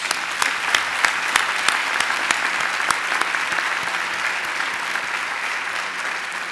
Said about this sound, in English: If you'd please join me in another round of applause.